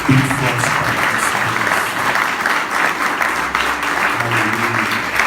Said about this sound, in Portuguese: Dê uma salva de palmas bem forte para Deus.